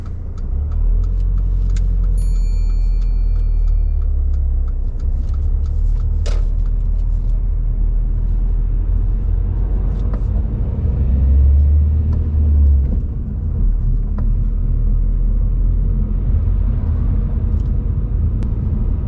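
Car interior rumble as a learner's car pulls away on a driving test, a steady low engine drone with faint clicks and a brief swell in the middle.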